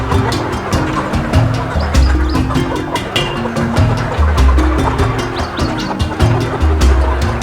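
A flock of about 2,000 chickens fills a farm poultry house on an African homestead, giving a dense, continuous din of clucking and chatter with sharp peeps scattered through it, close and steady throughout.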